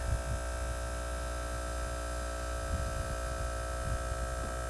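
A VIAIR TLC air compressor runs steadily while pumping up a tire, giving a constant tonal hum and buzz at moderate level with no pauses.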